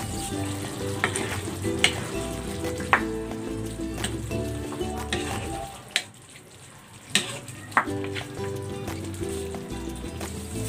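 Pork frying in a pan sizzles steadily with crackling spits and a few stirring knocks and clatters, loud and close, briefly dropping quieter before the sizzle resumes.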